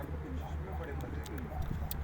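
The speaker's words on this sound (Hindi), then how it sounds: "ये देखें चोंजे मिला रहा है कबूतर।" Pigeons cooing softly nearby, low repeated throaty coos in a steady rhythm, faint and continuous, with voices talking in the background.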